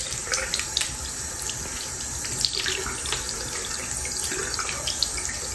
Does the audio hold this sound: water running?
yes